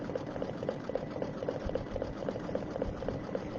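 An embroidery machine stitches satin edges on an Easter egg zipper bag, a steady, fast, rhythmic needle chatter with an even mechanical hum underneath, continuous and close throughout.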